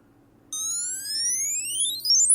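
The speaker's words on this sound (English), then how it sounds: "It sets a little alarm off." A Tracker key finder sounding its alarm: a bright electronic tone that sweeps steadily upward in pitch for about two seconds, loud and close, with a faint low hum underneath.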